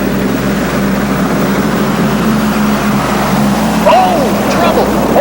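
At a 1986 NTPA tractor pull in Bowling Green, a pulling vehicle powered by three 40-year-old Allison fighter plane engines gives off a loud, sustained engine roar with a low rumbling drone that swells slightly toward the end, with a voice heard over it.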